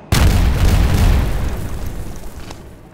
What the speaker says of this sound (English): Did something just explode?